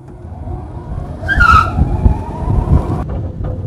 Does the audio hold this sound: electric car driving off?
yes